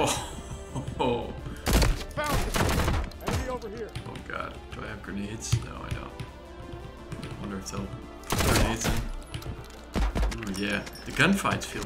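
Gunfire rings out in the Transience demo. Sharp shots come in scattered bursts, with a dense cluster near the start and another later, while a person talks over the action.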